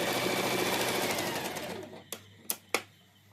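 A sewing machine stitches fabric onto buckram for a collar neckline, whirring steadily and close for about two seconds before winding down to a stop, followed by three sharp, separate clicks.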